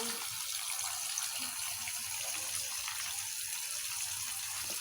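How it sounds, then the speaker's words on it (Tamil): Macaroni is rinsed under steady running water in a kitchen, a soft continuous wash that sits fairly quiet with no clear voices over it. "நம்ம மக்ரோனி வாஷ் பண்ணி போட்டுக்கலாம்"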